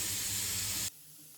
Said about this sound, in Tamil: இப்போ வந்து இந்த கத்திரிக்காயை ஃபுல்லாக இதில் அடிக்கிடலாம்.